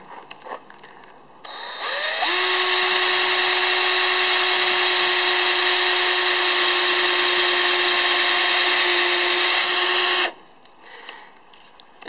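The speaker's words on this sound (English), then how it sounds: "drill through the holes" A power drill runs at a steady, loud, high whine for about eight seconds as it bores through holes in a custom fiberglass door panel, with brief quiet handling before and after.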